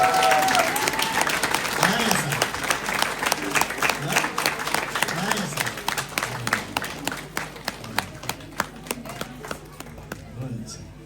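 Guests at a rural Nepali Christian wedding clap in a steady rhythmic beat, close and lively, with voices talking and calling underneath.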